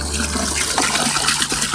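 Running water splashes steadily over Louisiana crawfish during rinsing, a loud, continuous rushing and sloshing close by.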